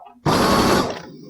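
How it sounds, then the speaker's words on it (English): A sewing machine starts and runs for about a second, stitching across the width of a fabric infinity scarf, a close, loud, steady whir that quickly tapers off. "I'm now sewing across the width of my scarf."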